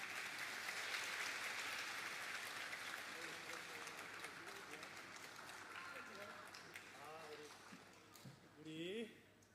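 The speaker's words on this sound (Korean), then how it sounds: "네, 박수하겠습니다." Church congregation at a Sunday service claps together, broad applause that swells early and gradually thins, with children's and adults' voices chattering and calling out toward the end.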